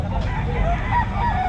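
A Kanawayon rooster crows at a pet market in Bocaue, a short, loud nearby crow with wavering tonal notes over background crowd murmur.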